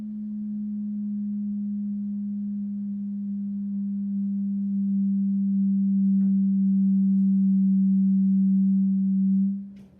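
A steady sine tone plays loud and alone in a physics classroom standing-wave demonstration, held near 193 hertz with only a slight pitch drift before it cuts off abruptly at the end.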